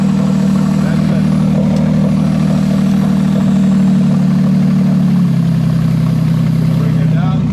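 Toyota JZ engine on a modular wiring harness idling after warm-up, a close, loud, steady low drone with an even rumble, settling to a slightly lower, smoother note toward the end.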